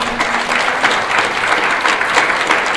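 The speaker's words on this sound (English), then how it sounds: "Give a round of applause." An audience at a Toronto spotlight panel breaks into steady applause, a dense wash of clapping from a crowd that holds evenly throughout the short stretch with no voices over it.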